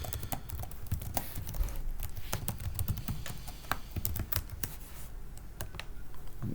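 A computer keyboard clatters close by with rapid, irregular keystrokes over a steady low background hum, the clicks fast and continuous without any pause.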